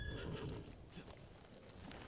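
A horse whinnies and its hooves clip-clop in Ghost of Tsushima, a steady rumble of hoofbeats with a neigh rising near the start, close and fairly loud against the game's ambient bed.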